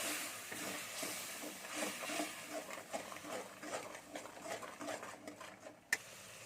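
Masala paste of coriander powder, salt and a little water bubbles and sizzles softly in a pan while being stirred for a raw tomato prawn curry, a faint steady patter ending in a sharp clink.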